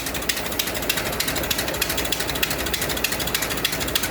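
A 1924 Dodge engine with a freshly overhauled carburetor idles smoothly, a steady rapid mechanical clatter of evenly spaced ticks close by, with no voices over it.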